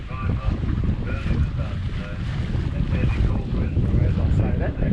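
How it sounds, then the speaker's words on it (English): A sailboat beating into the wind at 6.7 knots, with steady roaring wind buffeting the microphone and the rush of water along the hull, with voices faintly mixed in. "It's pretty good for sailing into the wind."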